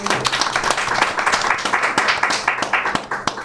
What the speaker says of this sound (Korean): 박수로 좀 크게 서로 격려해 주시면 좋겠습니다